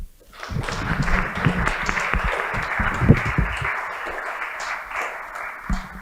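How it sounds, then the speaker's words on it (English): An audience at a fintech panel applauds. Many hands clap in a dense, uneven patter that rises quickly, holds moderately loud and then thins slightly toward the end. "keep clapping as they take their seats"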